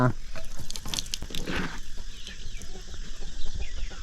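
Chickens and other poultry cluck and chatter on a rural farm, with busy overlapping bird calls close by and a person talking over them.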